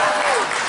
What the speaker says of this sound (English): Now clap now.